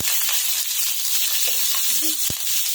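Cumin seeds, asafoetida and chopped green chillies frying in hot oil, a steady bright hiss of sizzling with a few small pops and a brief clack near the end, close and loud with no talking.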